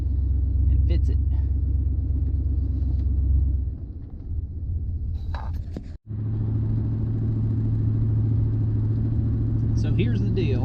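Idling diesel engine of a vehicle backing out of a driveway with a Cummins K2500 truck loaded on it, a steady low rumble that dips briefly and resumes, with faint talk over it.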